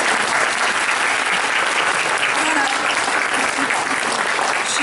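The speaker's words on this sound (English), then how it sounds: "let's all give her a round of applause for all the work she does" Loud, dense applause from a Parents Day audience, a continuous wash of many hands clapping at once that holds steady throughout without any break or voice on top.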